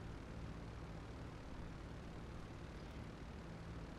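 A low-fuel airplane droning in GTA 5, a steady, even engine roar that fills the clip without breaks or talk.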